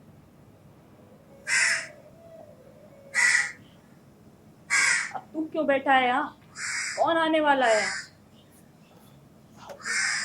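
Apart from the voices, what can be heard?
crows cawing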